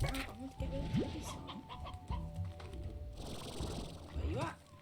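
Chickens cluck repeatedly in the video game Slime Rancher, clear game-audio clucks and short rising calls spread through the stretch, with a voice talking over them.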